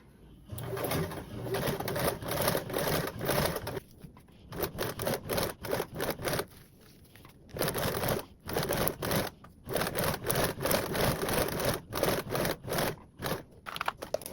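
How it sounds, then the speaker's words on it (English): A sewing machine top stitches a blanket backpack strap in repeated short, rattling bursts with brief stops between them; close and fairly loud, with no talking. "We're going to top stitch 1/8 away from the seam all the way up our strap on both sides."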